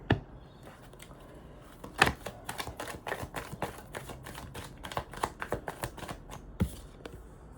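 A tarot card deck is shuffled in a continuous run of crisp riffling and slapping card noises, with sharper snaps standing out now and then. It stays close and moderately loud throughout.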